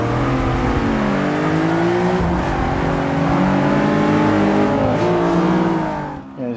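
A Honda Civic Type R at high speed, around 128 mph: a loud, steady engine drone with layered harmonic tones that rise and dip slightly with throttle, continuous for several seconds before easing off at the end.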